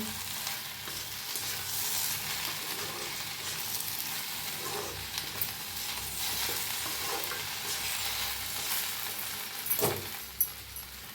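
Masala okra fries in a pan, a soft continuous sizzle with occasional light scrapes and taps of a spoon stirring, fairly quiet and close, no voices.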